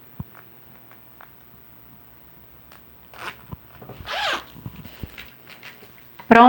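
Quiet scratchy fabric handling while sewing a carry-on bag, then a short rising zip of a zipper slider being pulled, followed by small clicks and a sharp final crunch.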